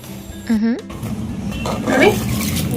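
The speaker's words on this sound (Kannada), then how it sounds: "ಸ್ವಲ್ಪ ಜಾರ್ ತೊಳೆದ್ಬಿಟ್ಟು ನೀರ್ ಹಾಕೊಳ್ಳೋಣ" A mixer jar being rinsed in a home kitchen and water poured in while cooking chicken gravy: a clinking knock, then running, splashing water under a brief voice.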